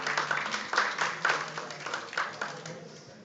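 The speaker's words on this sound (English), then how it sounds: "I'd like you guys to applaud these amazing speakers here." An audience at a green jobs event applauds the speakers, a moderate patter of clapping from a modest crowd that fades toward the end.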